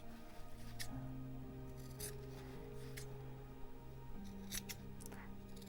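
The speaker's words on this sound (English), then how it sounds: "Let's trim these corners." Scissors snip at the corners of a sewn fabric coaster, a few quick, crisp cuts spaced apart over a steady low background hum, close and fairly quiet.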